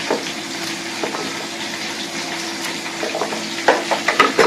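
Cut garlic going into a small sauce pan that hisses with steady frying sizzle throughout, with sharper crackles and spits building toward the end, close and fairly loud.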